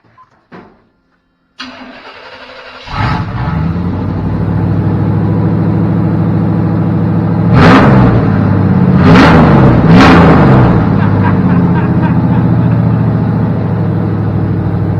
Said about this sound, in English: We're going to fire it up and see how different it sounds.